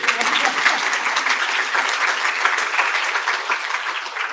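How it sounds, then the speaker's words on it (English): Audience applause at a keynote debate on rethinking the economics curriculum, a dense, steady clapping from a large crowd that holds at an even loudness throughout. "Applause."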